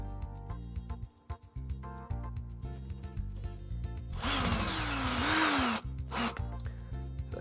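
A power drill drives mounting screws into a wall, leaving them partly out. Its loud whirring burst rises and falls in pitch for over a second, followed by a short second spurt, over steady background music.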